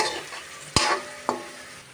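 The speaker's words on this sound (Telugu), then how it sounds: "కలుపుతూనే ఉండాలి, ఎందుకంటే అడుగంటకుండా." Curry leaves frying in a pan and being stirred: a steady soft sizzle with two sharp scraping stirs of the spatula, close and alone.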